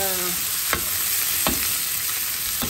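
Cauliflower and egg mixture fries steadily in a pan, a constant close hiss broken by three short knocks of stirring, with no talking.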